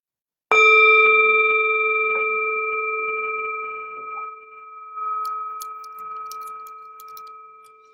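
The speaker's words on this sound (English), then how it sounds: "The sound of the bell returns us to our true home." A meditation bell is struck once, ringing out loud and clear with a long sustained tone that slowly fades over several seconds, joined near the end by faint scattered clicks.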